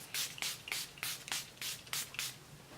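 Makeup setting spray is misted in a run of about eight quick, soft hissing bursts, close and quiet, evenly spaced with brief gaps between pumps.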